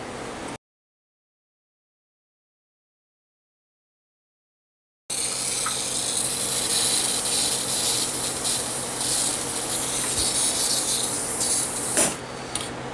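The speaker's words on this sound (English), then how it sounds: "I'm going to come back with the Scotch-Brite wheel, and that should polish that up nicely without removing any material." A Scotch-Brite wheel buffs a Starrett #436 micrometer, giving a steady, loud abrasive hiss and rasp with a faint motor hum beneath. It runs continuously for several seconds after a stretch of silence.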